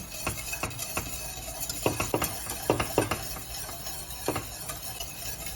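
Scattered scraping clinks of a spoon working through kulfi mix in a pan on a gas stove, irregular and close, with a faint background hum and no talking.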